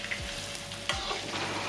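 Tofu and basil stir-fry bubbles and sizzles in a pan, a continuous close frying hiss with a couple of faint low knocks and no talking.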